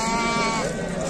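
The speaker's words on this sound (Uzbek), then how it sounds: "Qo'ylar egasi yo'qligida mana ketib qolyapti qo'zilar" Sheep and lambs bleating at a livestock market, a loud, continuous overlapping chorus of close bleats filling the whole moment.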